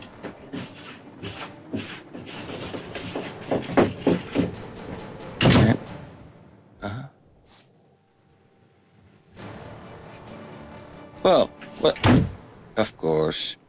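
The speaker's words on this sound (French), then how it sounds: "Pourquoi est-ce qu'il cogne à la porte avant de l'ouvrir?" Knocks and handle rattles at a door sound in a tense setting, a cluster of sharp thumps mid-way and another burst of quick raps near the end, mixed with people talking in between.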